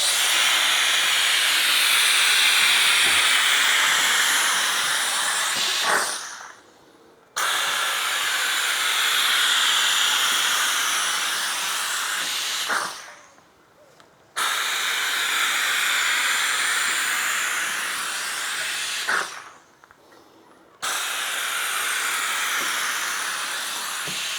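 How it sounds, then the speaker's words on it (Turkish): A Youban 2707 steam cleaner sprays steam across a window in three long, loud, continuous hissing bursts of about six seconds each. Brief pauses separate the bursts, and no one speaks. "Şimdi buharlımızla"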